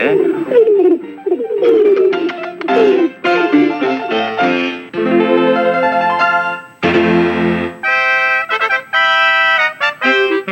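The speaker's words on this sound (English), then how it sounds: "No, the birds are back! The birds are back!" Cartoon pigeons coo in repeated warbling bursts, loud and close, mixed with animated-show music and voices.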